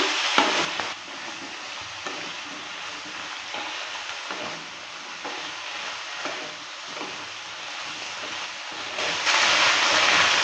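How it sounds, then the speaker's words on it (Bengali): Mixed vegetables for a Bengali five-vegetable dish with bori sizzle steadily in a pan while being stirred, a continuous close frying hiss with scraping strokes that grow louder near the end. "সবজিটা দেওয়ার পর ভালো করে নেড়ে করে নিচ্ছি"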